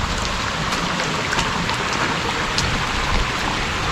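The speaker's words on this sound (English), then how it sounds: "It's been raining all night." Heavy overnight rain pouring down steadily around a flooded house, a loud dense hiss of drops hitting the roof and ground with occasional sharper splashes, close and constant with no talking.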